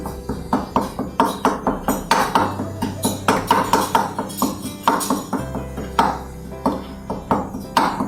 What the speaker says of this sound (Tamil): இதை வந்து மத்து போட்டு நல்லா கொஞ்சம் மசிச்சு விட்டுக்கலாம்